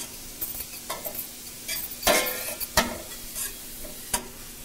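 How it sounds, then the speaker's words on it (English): Chopped onions sauteing in a pan, a soft continuous sizzle with repeated scraping and clinking stirs of a utensil, close by and with no voices. "you want to saute these until they're translucent"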